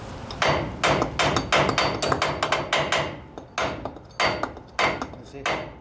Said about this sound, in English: I'll hit it with the sledgehammer